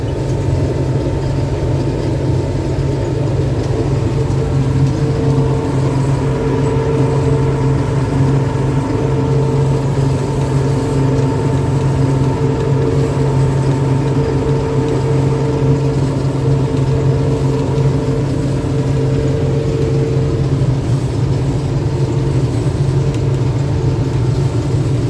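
A combine harvester working through a corn crop gives a steady, loud engine drone with constant mechanical rumble, continuous and unbroken throughout with no talking.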